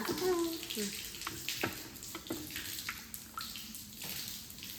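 Water splashes and runs against hard surfaces in uneven bursts, close by, as poultry farm drinker pipes are rinsed and scrubbed, with some faint voices in the background.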